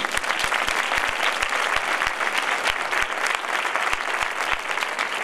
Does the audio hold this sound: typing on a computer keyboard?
no